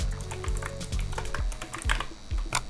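A computer mouse clicks on a PC while camera software is being set up, giving a close, quick string of sharp clicks and taps with no speech.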